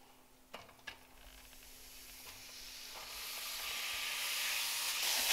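Ground beef frying on high heat in a dry pan with no oil, its sizzling hiss starting faint and swelling steadily louder and nearer into a dense, continuous crackle.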